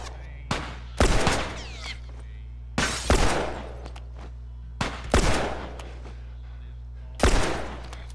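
A shotgun fires in The Last of Us, with seven loud, booming blasts in loose pairs spread over several seconds, each followed by a short decaying tail.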